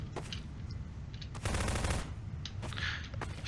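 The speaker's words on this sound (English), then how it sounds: "What are you firing at?" Bursts of automatic gunfire crackle through a Prop Hunt match, a sustained volley in the middle with shorter rattles before and after, set over a steady low rumble of game ambience.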